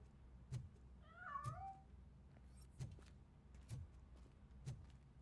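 A cat meows once in a video game, a short wavering cry standing out over a faint background of low, regular game thumps, with no one talking.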